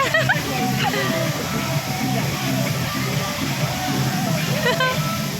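People bathe and splash under a cascading, waterfall-style flow at a beach amusement park, a continuous rushing slosh of water mixed with lively voices and shouts.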